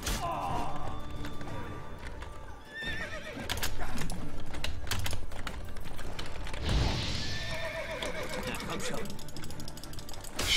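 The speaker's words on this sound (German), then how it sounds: "Hat unser Pferd gebockt." In The Witcher 3, a horse whinnies and its hooves clatter amid busy game sound effects and combat clanks during a bandit fight, loud and close throughout.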